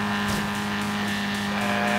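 Ford Fiesta accelerating flat out in Forza Horizon 3, a steady loud engine drone held at high revs with no break across two seconds.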